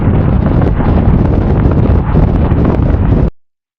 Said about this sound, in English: The wind is so crazy from the west. It's pushing me around up here.